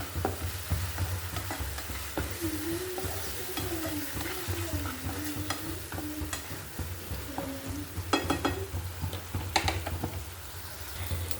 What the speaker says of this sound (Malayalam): ഒരു ഒരര spoon chilli sauce അരാര spoon soya sauce ഒഴിച്ചിട്ടുണ്ട് മിക്സ് ചെയ്യാം കേട്ടോ